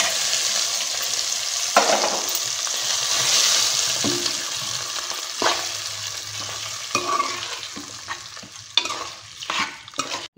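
Gongura and chana dal curry gets stirred into hot tempering in a pan, with loud, close sizzling and repeated scraping strokes of a spoon against the vessel.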